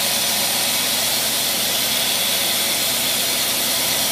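A Dodge-type engine fitted with a Carter AFB carburetor idles steadily, a continuous broadband rumble and hiss that stays even and close throughout, with no talking over it.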